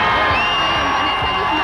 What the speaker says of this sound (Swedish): Ännu mer jubel för fröken Mexico.